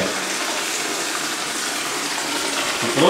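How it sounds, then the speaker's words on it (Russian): Water gushing steadily from a tap into a filling bathtub, a continuous rushing splash indoors, with a brief rise in noise at the end. "Просто вот так вот струю наливаете воды, да?"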